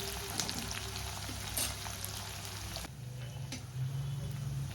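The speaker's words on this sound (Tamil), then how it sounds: "வெங்காயம் நல்லா வதங்கி வரட்டும் ப்ரௌன் கலரில்." Onions sauté in hot oil with curry leaves and garlic for a masala vada kuzhambu, a continuous soft sizzle with occasional ticks and stirring sounds.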